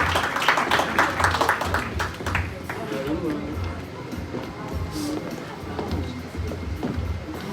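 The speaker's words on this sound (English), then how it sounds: "Clap it up for him." Church anniversary audience clapping and cheering as members are called up, a dense ragged applause that starts loud and thins, with someone talking over it and whoops in the room.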